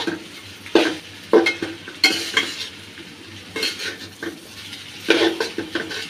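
Pasta noodles with onion, green chili and tomato are stirred in a pan, sharp metal spatula scrapes and clanks coming in irregular bursts over a soft frying sizzle, close and loud, with no speech.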